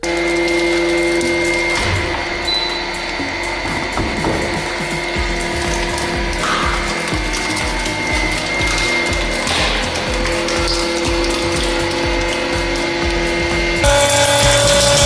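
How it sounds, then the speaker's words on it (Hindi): A hydraulic press grinds steadily against a wooden plank, a loud continuous mechanical whine and hum with irregular creaks and cracks from the wood, the motor note shifting near the end. "Would Planck versus hydraulic press."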